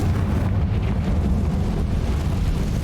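The Confringo spell blasts in Hogwarts Legacy, a sustained loud, rumbling explosive roar with heavy low-end boom and no voices.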